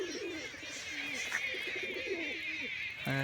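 Pigeons coo softly in a flock, their low calls repeating over steady background noise, with a brief sharper sound near the end.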